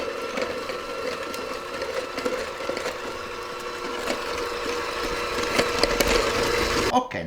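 A stand mixer whirs steadily as it beats a sour cream batter for traditional Christmas angel wings, a continuous motor hum with faint clatter throughout, cutting off abruptly at the very end.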